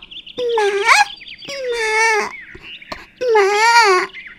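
Three drawn-out, high wailing cries of a small cartoon pigeon chick with rising and falling pitch, close and loud, separated by brief pauses.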